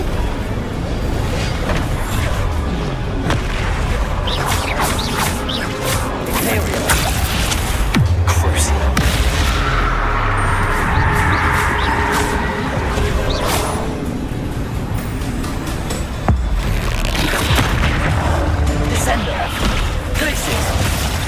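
Spell blasts from the Confringo curse in the Hogwarts Legacy video game, with a few sharp impacts that stand out from dense, continuous game sound and music.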